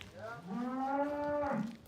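A single cow lets out a long, drawn-out moo, fairly close and clear against a quiet background.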